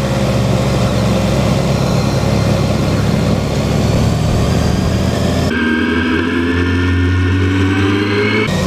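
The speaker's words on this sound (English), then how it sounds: "You can hear his exhaust now." Motorcycle exhaust and engine drone heard near and loud on a road ride in Eastbourne, a steady rumble that shifts to a lower, smoother note partway through.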